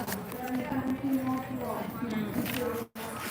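Hooves of a 20-year-old sorrel quarter horse mare clip-clop steadily at an auction walk-through, soft and close, partly masked by continuous talk over the top.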